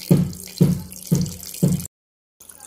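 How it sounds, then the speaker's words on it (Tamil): Water poured into a pot of masala for a country-chicken curry, four rhythmic splashing pours in quick succession, close and clear, then a short silence before a faint trailing sound. "இப்போ தண்ணி ஊற்றிக்கலாம்,"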